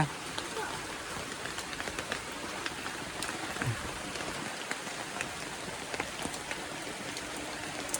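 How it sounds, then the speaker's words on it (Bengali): Rain patters on a tin roof, a steady wash dotted with sharp individual drop hits, moderately close and fairly quiet. "বৃষ্টি এলো, এই ছাতি নাইছে খারাই"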